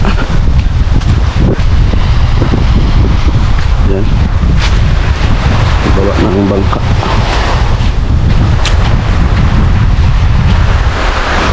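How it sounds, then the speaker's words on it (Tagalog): Strong northeast monsoon wind at sea roars and buffets the microphone without letup, with a person speaking briefly beneath the gusts on a small fishing boat at night. "maglaot lang tayo dyan kahit malakas ang amihan no."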